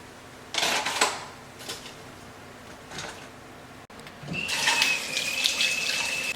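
Tap water runs into a sink as silver pieces are rinsed, a steady splashing stream that starts, stops briefly, then returns stronger, with light clinks and no talk.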